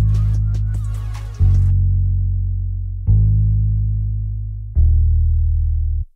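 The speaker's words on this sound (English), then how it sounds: "Lastly, I just added bass to the sample to fill it out like usual." A bass one-shot sample in FL Studio follows the root note. After a brief plucked intro, three deep, sustained bass notes sound at even intervals, each one fading out slowly before the next starts.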